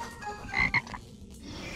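A cartoon toad lets out a single loud, raspy croak, brief and close, with no talking over it.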